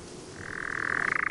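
A nightjar churs during an attempted mating, a steady mechanical trill that begins quietly and swells louder as he approaches, its tone rising and turning into a pulsing warble near the end. No voices are heard.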